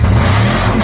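A car engine revs hard and loud up close, its still-leaking exhaust giving a rough, clapping edge to the steady roar.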